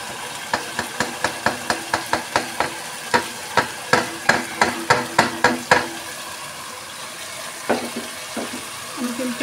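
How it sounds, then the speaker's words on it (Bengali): Rice tipped into cooked browned meat and stirred together in a pot, a quick run of regular scraping strokes, fairly close, then a pause and a few scattered stirs. "এখন আমি চালটাকে এর মধ্যে ফেলে দিব।"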